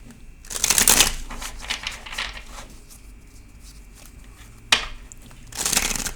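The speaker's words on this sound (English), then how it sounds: "Tell me to shuffle this way and it's split." Tarot cards riffle and shuffle in quick bursts near the microphone, with softer handling sounds and pauses between the louder shuffles.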